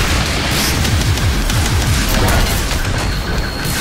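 Grenade explosions in the Doom SnapMap shooter, a loud continuous barrage of booming blasts and crashing debris filling the whole stretch with dense low rumble.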